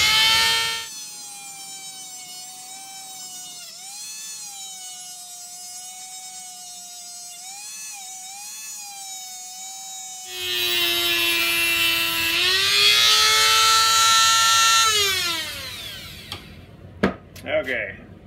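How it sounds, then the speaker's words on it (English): A Dremel rotary tool with a cutting bit whines at a high pitch, shifting speed as it cuts rod for glass bedding a rifle, then briefly rises in pitch under heavier load before stopping with a few clicks. "Get your Dremel out with a cutting bit."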